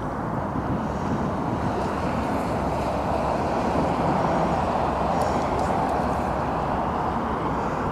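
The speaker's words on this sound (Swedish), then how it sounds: "Det verkar som det blåser åt alla håll ibland." Steady, heavy wind roars across the microphone in a dense, constant rush, loud and unbroken, with no voices.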